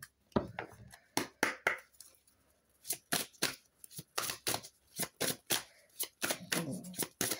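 A deck of tarot cards is shuffled by hand in a quiet room: a steady series of crisp, papery slaps and riffles, close and fairly soft, with brief pauses between bursts.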